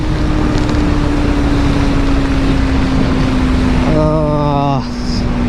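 Motorcycle running on Liqui Moly oil, a loud, steady raw engine drone throughout with a brief rising-then-falling rev near the end, heard alone without talk.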